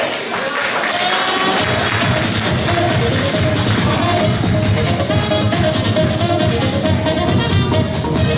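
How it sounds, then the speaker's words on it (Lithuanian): Sustained, dense applause from a crowd at a Lithuanian school hundred-days celebration, loud and steady throughout. "Plojimai!"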